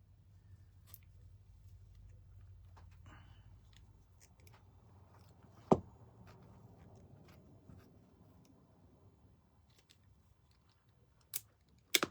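Scissors snip through a precut wooden craft piece from a Peep Bunnies wood pack, giving quiet, scattered clicks and crisp snips, including a few sharp louder cuts, over a faint background hum.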